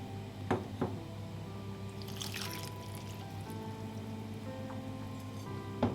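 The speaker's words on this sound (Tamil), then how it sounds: "தண்ணி விட்டுக்கலாம்" Water trickles into a pan of karuvattu kulambu, a dry fish curry mixed with coriander powder, as a faint, steady pour with a few soft drips and splashes standing out.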